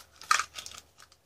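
Plastic bag from a sardine-tin survival kit crinkling close up in a few short, quiet bursts of rustle, with no voices.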